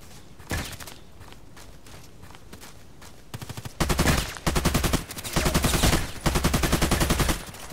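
Bursts of AK-105 rifle automatic fire ring out in the video game Contract Wars, loud rapid sprays in several strings, with lighter scattered shots and footsteps beforehand.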